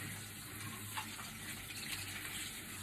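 Water splashes and gushes steadily from a container during cleaning, a continuous faint wash of noise with no talk.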